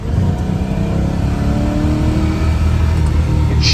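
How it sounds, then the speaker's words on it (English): A 1969 Plymouth Road Runner with an original 383 engine revs and winds out under acceleration through first and second gear, a loud, close, continuous engine roar with rising pitch and no talking. "give it a little run up through first and second, let you hear it wind out a little bit"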